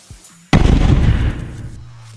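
Time bomb thrown out of a window explodes in an animated story, heard as one sudden loud blast that rumbles and then decays over about a second and a half.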